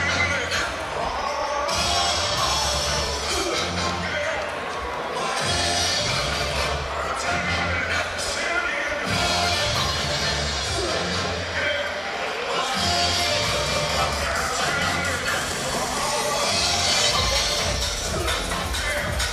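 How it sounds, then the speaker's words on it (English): Crowd noise at a live professional boxing event: a continuous murmur with scattered shouts and cheers, under steady commentary talk. "some of the crowd there enjoying the atmosphere"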